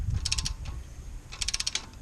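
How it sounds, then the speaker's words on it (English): A torque wrench ratchets while tightening bolts on a third-generation Subaru Legacy during an overhaul, making two short bursts of rapid mechanical clicks separated by a quiet pause. "you go and you get a real torque wrench, you torque them in proper sequence"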